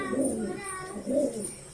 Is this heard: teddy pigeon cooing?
yes